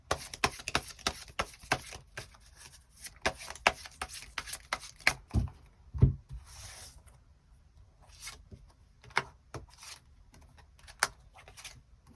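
Tarot cards are shuffled and drawn up close as a series of soft, irregular snaps, flicks and slides. The sounds stay quiet and scattered, with a few louder slaps near the middle and no speech.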